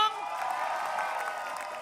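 Studio audience clapping on a live Indonesian TV talk show: a dense, steady wash of applause that holds at an even level from start to finish.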